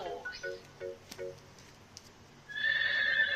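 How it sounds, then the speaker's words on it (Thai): Horse neighing: a bright, shrill whinny rings out near the end after a few soft hoof clip-clops, fairly close and clear with no talking over it. "horse"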